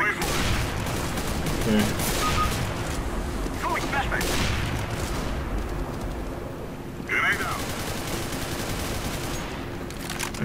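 Gunfire in the video game CS:GO: bursts of rapid shots and scattered single cracks over a dense game background, with someone talking over the action.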